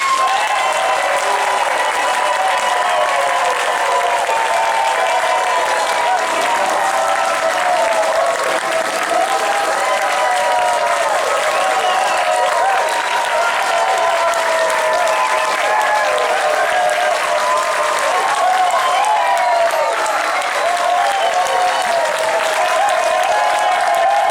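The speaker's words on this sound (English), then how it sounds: "we need a long extended applause so we can get the sound of the room" Long, sustained applause from a live radio show audience in a room in Guerneville, dense and steady clapping throughout with occasional cheers, loud and unbroken from start to finish.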